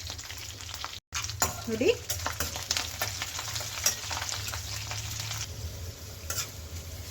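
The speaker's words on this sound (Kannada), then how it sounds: "ಬೆಳ್ಳುಳ್ಳಿ ಸ್ವಲ್ಪ ಚೆನ್ನಾಗಿ ಬ್ರೌನ್ ಕಲರ್ ಬರೋವರೆಗೂ ಎಣ್ಣೆಯಲ್ಲಿ ಬಾಡಿಸ್ಕೋಬೇಕಾಗುತ್ತೆ" Garlic frying in oil until brown, a steady close sizzle with the scrape and clatter of stirring throughout, and a brief word spoken near the start.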